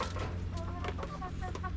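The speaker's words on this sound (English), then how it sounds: "Some goofy chickens." Chickens cluck and chatter in short overlapping bursts over a steady low hum, with several birds close by.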